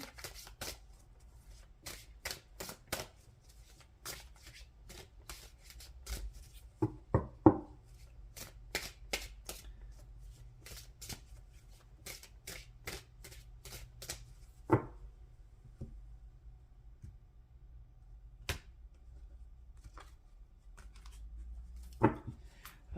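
An oracle card deck being shuffled by hand in a quiet room, with repeated crisp riffling and slapping bursts in irregular clusters over about twenty seconds, close and fairly soft, no talking.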